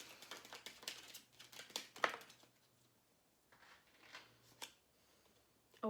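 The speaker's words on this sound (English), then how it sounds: "Sometimes it's hard to shuffle these little tiny cards." Small, tiny cards being shuffled by hand in a quiet room during a tarot-style reading, giving soft quick riffling flutters in several short bursts with pauses between.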